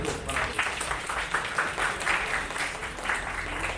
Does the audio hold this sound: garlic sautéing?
no